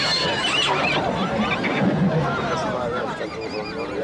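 Free-roaming horses in the Galician hills whinny and neigh in overlapping calls, fairly close and loud, over a steady outdoor rumble.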